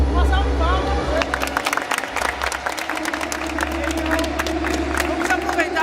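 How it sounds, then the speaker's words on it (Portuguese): Applause for the winning team at a Copa 400 Anos football tournament event: a dense burst of clapping and cheering from a crowd, loud and lively, with voices mixed into the noise. "Uma salva de palmas a vocês"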